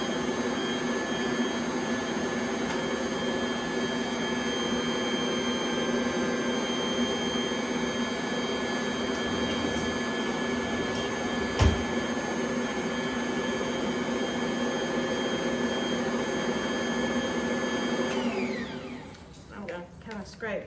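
A stand mixer runs steadily at speed 1 with the lid on, mixing bread dough for bread and hamburger buns; a loud continuous motor whine with harmonic hum holds for about eighteen seconds, then winds down near the end.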